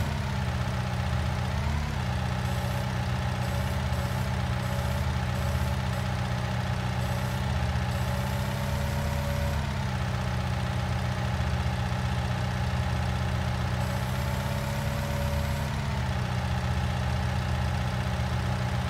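A tractor engine idling after the tractor has rolled over; a steady, loud, continuous mechanical drone with slight shifts in pitch, heard alone without talk.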